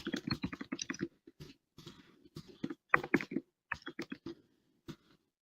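Keys on a computer keyboard tapped in quick irregular bursts while a blog post is written, close and fairly clear, with short pauses between runs of strokes and no talking.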